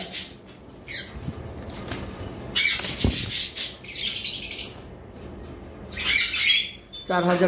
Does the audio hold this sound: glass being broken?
no